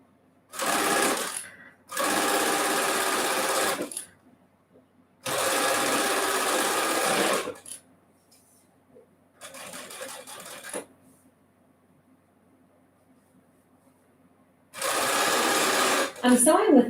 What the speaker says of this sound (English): I'm sewing with white thread